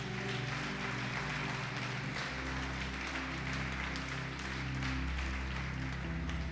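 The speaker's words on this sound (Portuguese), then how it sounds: "Pode aplaudir o Senhor e glorificar." A church congregation applauds during a sermon in a steady wash of clapping, with sustained organ or keyboard tones humming underneath throughout.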